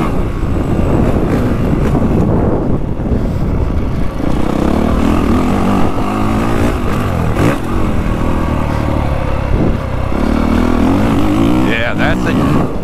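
Honda CRF450 dirt bike engine revs loud and close, building RPM quickly under heavy wind buffeting, with a rider talking over it.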